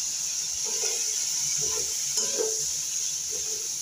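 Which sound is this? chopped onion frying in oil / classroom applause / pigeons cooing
chopped onion frying in oil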